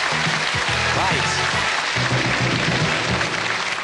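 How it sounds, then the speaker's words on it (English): Studio audience applause for contestants on the 1993 Going for Gold game show, a steady wash of clapping running throughout beneath a voice talking over it. "please put your hands together and give a little cheer at home for the remaining contestants playing Going for Gold"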